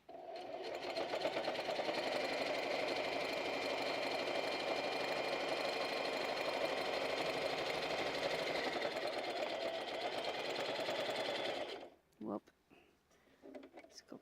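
A sewing machine stitches in a steady, close, fast whir for about twelve seconds, then stops, followed by a few small clicks and handling noises.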